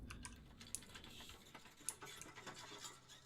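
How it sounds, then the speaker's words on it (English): Rapid clicky typing on a new mechanical computer keyboard, a steady patter of quiet, crisp keystrokes with a few sharper clacks, close and alone. "I can hear clicking, it's my new keyboard. It's very, very, very clicky."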